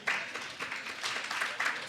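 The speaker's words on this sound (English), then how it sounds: "Ladies and gentlemen, please give her a round of applause." A panel audience applauds, a brief burst of many hands clapping in a dense patter that swells and fades in small waves, moderately loud and close.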